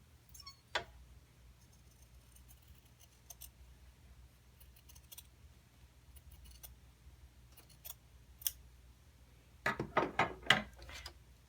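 Scissors trim the seam allowance on joined quilt binding strips, faint isolated snips early on, then a quick close cluster of cutting clicks near the end against a quiet, humming room.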